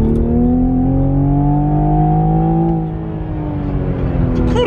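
A 2019 Toyota GR Supra engine drones steadily from inside the cabin, a loud, smooth tone that rises in pitch and then eases off, heard alone with no talk.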